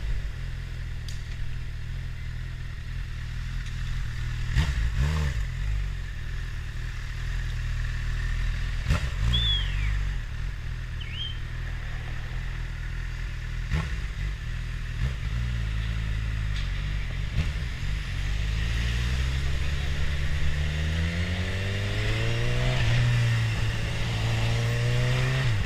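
A Honda CB1000R motorcycle fitted with a K&N air filter runs a steady engine drone that rises in pitch as it accelerates through gears in the later part, with a few sharp clicks along the way.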